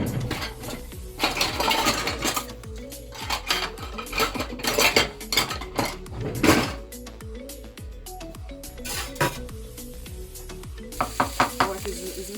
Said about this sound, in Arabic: غادي الزبده ديالنا تبقى تذوب